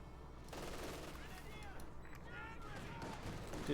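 Gunfire in the strategy game Company of Heroes 2, with German grenadiers and an MG42 firing on riflemen: rapid distant bursts of shots crackle under steady battle noise while someone commentates.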